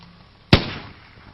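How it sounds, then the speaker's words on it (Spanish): A single sharp gunshot cracks out on a cold night in 1896, near and loud, with a short decaying echo, startling a horse that draws a carriage. "El estruendo de un disparo sobresalta al caballo"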